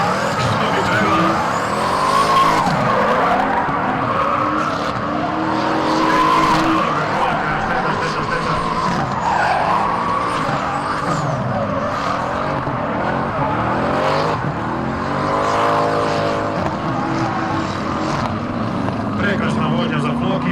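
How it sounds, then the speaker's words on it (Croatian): Drift cars fly through a competition run at a drift championship, their engines wailing and revving in rising and falling sweeps with tires screeching, loud and continuous while a commentator talks over it. "Prekrasna vožnja za Flokija, ovdje je 10-0 sve jasno"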